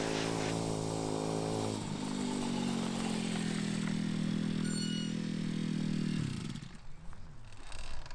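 A motorcycle with dual exhaust rides back down a hill, its engine droning loud and close with a steady buzzing note that shifts pitch, then cuts away into rattles near the end.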